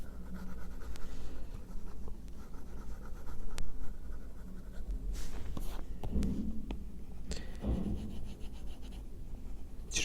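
A stylus scratches and rubs across an iPad screen while the artist colors in the inside of the mouth in a portrait drawing, giving faint, continuous strokes with small taps and no speech.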